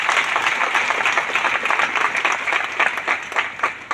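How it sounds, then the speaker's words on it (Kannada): An audience at a spiritual talk applauds loudly, sustained dense clapping from a crowd lasting several seconds. "ಅಂಥ ಎಲ್ಲ ಸಂತ ಆತ್ಮಗಳಿಗೆ ಒಂದ್ಸರಿ ಜೋರಾಗಿ ಚಪ್ಪಾಳೆ ತಟ್ರಿ."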